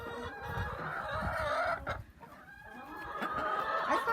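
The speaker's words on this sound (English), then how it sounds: "All my chickens are hens, so I don't have a single rooster" Hens cluck steadily in a chicken coop with no rooster, their clear, close calls and murmuring cackles overlapping in uneven bursts with a brief lull midway.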